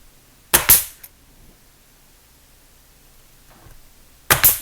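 A nail gun fires into window casing: two sharp, loud pneumatic bangs, one near the start and one at the end, with quiet handling noise between them.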